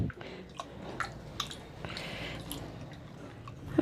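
Tamarind being squeezed and dissolved in water by hand for fish curry gives soft, wet squelching and squishing with small drips, close up and fairly quiet, with no talking.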